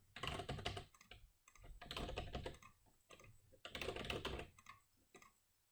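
Continuous typing on a computer keyboard in three dense bursts of rapid key clatter with short pauses, heard close and alone without speech.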